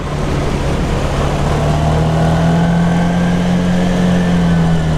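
An old Vespa VBB scooter converted to an automatic runs through a turn, its engine giving a loud, steady, close-up drone with a constant low hum and no pauses.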